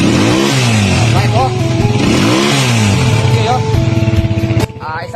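A 200cc motorcycle engine, converted from 155cc, revs up in repeated rising whines, loud and close, with someone talking over it.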